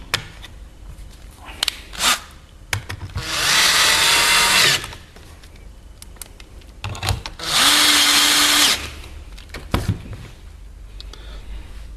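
Power drill driving 4.3 countersunk screws into a dummy sash lock, two loud sustained whirring bursts of a few seconds each separated by quieter handling knocks and clicks.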